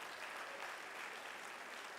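An audience at a Clemson Martin Luther King Jr. Day celebration claps for speaker Yolanda King, a brief, faint, even wash of applause heard from a distance.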